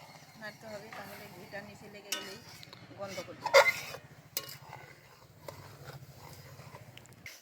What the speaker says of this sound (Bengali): এটা কন্টিনিউ নাড়িয়ে যেতে হবে এই ঘিটা বারবার